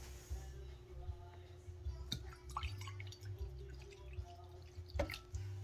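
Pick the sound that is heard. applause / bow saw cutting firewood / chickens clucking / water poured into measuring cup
water poured into measuring cup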